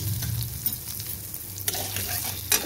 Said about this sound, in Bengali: কড়াই দিয়ে তেল গরম বসিয়ে দিয়েছি, তেল গরম হয়ে গেছে, আমি দিয়ে দিলাম হিং